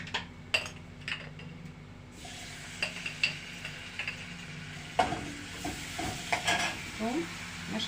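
Garlic frying in hot oil for an Egyptian fava bean dish, a steady close sizzle with scattered utensil stirs and light clinks of pots and cutlery throughout.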